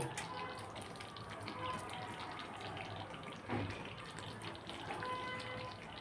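Water runs steadily from a kitchen tap as oily hands are rinsed partway through cooking egg korma, a continuous close gush with faint background voices.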